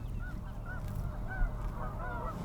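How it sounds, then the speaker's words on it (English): Geese honk repeatedly in a snowy field by a river valley, calls rising over a steady low rumble of wind or background noise, with one louder burst near the middle. "These geese weren't bothered by it."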